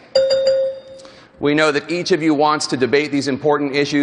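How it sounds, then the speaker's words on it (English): Debate timing bell at a Republican primary debate strikes once with a clear, sustained ring that decays for about a second, followed by someone speaking. "a bell will also sound like this."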